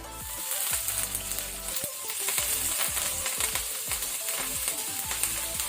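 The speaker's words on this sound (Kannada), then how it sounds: "ಸೊ ಇದನ್ನೀಗ ಲೋ ಫ್ಲೇಮಲ್ಲಿ ನಾವು ಫ್ರೈ ಮಾಡ್ಕೊಳ್ಬೇಕು" Urad dal, asafoetida and curry leaves frying in hot tempering oil over a low flame, a close, continuous sizzle with crackles and repeated scraping strokes of a spoon stirring in the pan, no voices.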